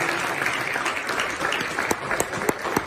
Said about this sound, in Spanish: yo quiero que le dé las palmas a la palabra